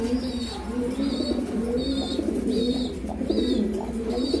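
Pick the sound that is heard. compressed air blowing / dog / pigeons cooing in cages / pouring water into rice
pigeons cooing in cages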